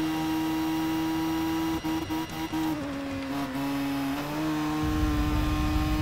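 High-revving engine of a light car of about 200 bhp weighing under a ton, racing in TOCA Race Driver 3, held steady near redline with brief dips from gear changes midway, loud and continuous throughout.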